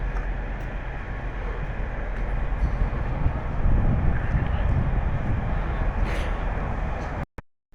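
Heavy low rumble of a train engine as the train starts to move, steady and building slightly, with broadband mechanical noise throughout before cutting off abruptly at the end.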